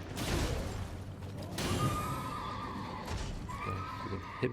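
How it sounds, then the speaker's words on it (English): Horse neighing and whinnying in the video game Elden Ring, a loud close whinny rising at the start and again midway, with hoof clip-clop and battle noise underneath and no talking. "You can hip check me with your horse."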